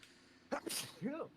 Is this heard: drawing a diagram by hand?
no